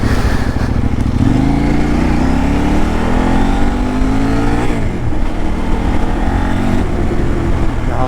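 A Kove 800X Pro adventure motorcycle works hard over rough off-road enduro park terrain, its engine revving up in two long, loud climbs with a brief drop between, close and dominant with no talking.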